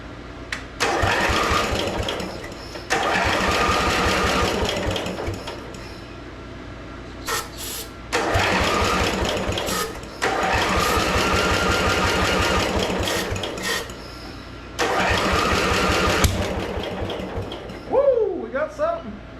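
A 1970s Briggs and Stratton tractor engine cranks after a shot of brake cleaner: four loud, rapid chugging bursts of a few seconds each, separated by pauses, with brief voices near the end.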